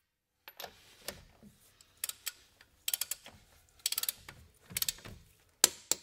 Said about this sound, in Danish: du skal til at spænde efter med en momentnøgle